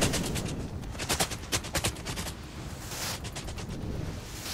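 Rapid bursts of musket gunfire crackle from a Total War: Shogun 2 battle, with overlapping shots in irregular clusters over a steady wash of battlefield noise. Nobody speaks.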